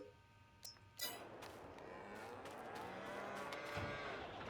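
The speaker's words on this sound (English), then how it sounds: "Because I need to buy my cows first. Okay, so we're going to go brown Swiss" Brown Swiss cows in Farming Simulator 22 moo in long, drawn-out low calls that overlap and continue steadily after a soft clink, moderately close with a faint ambient bed and no talking.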